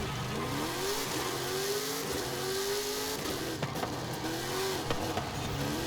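Racing truck engine in Forza Horizon 5 revving hard through repeated upshifts, each gear rising in pitch before dropping, with brief tire noise and shift clunks, loud and close.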